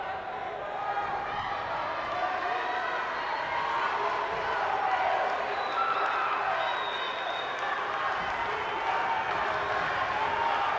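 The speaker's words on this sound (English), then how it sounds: "Lucas Guzmán orchestrating the crowd here" An arena crowd at a Pan American taekwondo match in Santiago, Chile, cheers and roars in a continuous, fairly distant wash of noise that swells slightly midway without pausing.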